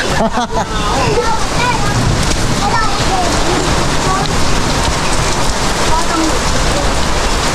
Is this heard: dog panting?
no